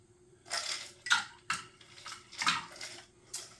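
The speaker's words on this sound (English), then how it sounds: "Add a little more ice to that." Ice cubes dropped into a glass for a Flamin' Hot Mountain Dew margarita, several sharp clinks and rattles in an irregular sequence, close and distinct against a quiet background.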